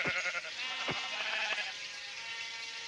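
Sheep bleating in a video game, a few short bleats in the opening second and a half over a steady ambient background, with no speech.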